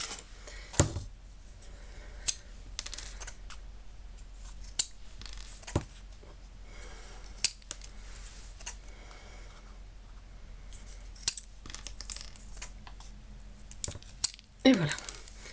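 Scissors snip paper for a Halloween craft in a quiet room, a series of short crisp cuts spaced irregularly, with soft rustles and taps of paper between them.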